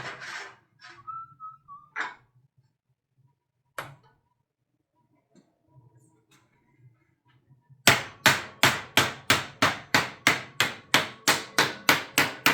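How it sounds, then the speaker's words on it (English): A fast, steady run of loud metallic hammer blows rings on sheet metal ductwork being flattened at close range, after a quieter stretch of scattered clinks and a short whistle. "Hammer it as much as you can."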